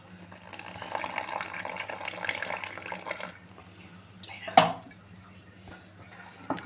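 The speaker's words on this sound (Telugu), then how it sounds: "ఇట్లా నీళ్ళు పోసుకోవాలి తగినంత." Water is poured into mirchi bajji batter in a bowl for about three seconds, a steady close splashing pour, followed by a single sharp clink of a utensil and quiet handling noises.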